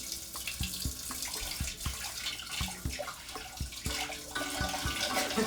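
Warm water runs from a kitchen tap into a cup, a close splashing stream broken by short clunks and pauses as the flow is adjusted.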